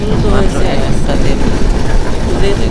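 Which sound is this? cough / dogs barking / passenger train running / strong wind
passenger train running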